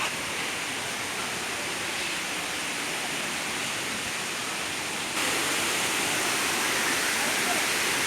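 Kaigal waterfall in Chittoor district roars steadily and loudly, a dense continuous rush of water that grows slightly stronger partway through.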